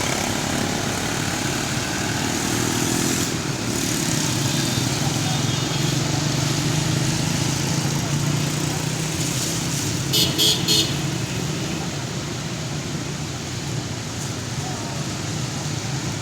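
Busy road traffic after half an hour of rain near an expo centre, a continuous roar of passing vehicles with wet-road hiss and a few brief horn toots partway through.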